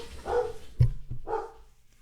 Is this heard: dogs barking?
yes